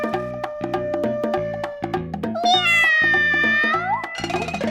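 A cat meows repeatedly and loudly, sounding close, in a string of short cries followed by a longer, drawn-out wail. A sustained musical tone runs underneath.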